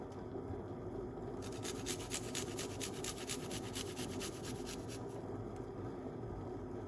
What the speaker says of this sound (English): let's grate the garlic into it